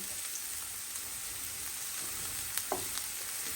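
Chicken breast and mushrooms sizzle steadily in a hot pan, a continuous crackling hiss with a few louder pops near the end, no talking.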